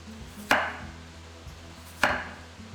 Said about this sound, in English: Cut the potatoes into 1/4 to 1/2 cm slices